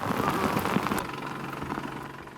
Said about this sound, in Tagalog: humina ang ulan